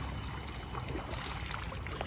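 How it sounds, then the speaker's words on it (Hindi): Water streams across a mountain road in Ladakh with a constant splashing, trickling rush, close and even throughout, with no voices. "कहाँ से आ रहा है पानी।"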